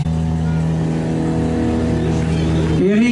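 A modern rally car at the podium of the Rallye Baldomérien holds a loud, steady engine drone close by, then the revs climb sharply as it pulls away at the end.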